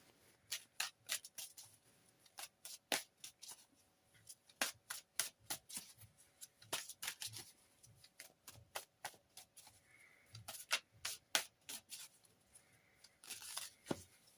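Tarot cards are shuffled and drawn by hand, with a rapid run of soft riffling clicks and flicks in irregular bursts, close and quiet, with no talking.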